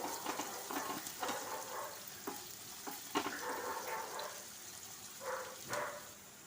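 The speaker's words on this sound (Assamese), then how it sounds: "পিঁয়াজখিনি ভাজি লৈছোঁ" Sliced onions frying in a pan while being prepared for an egg bhujia, a steady mid-level sizzle broken by several spatula scrapes and stirs, no voices.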